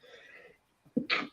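One short, sharp human sneeze bursts out after a faint breathy intake, close and fairly quiet, during a sports podcast recording.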